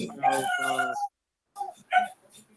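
A dog barks and yips insistently during an online committee meeting, a close run of sharp barks followed by a pause and a couple more yelps, heard through a call connection.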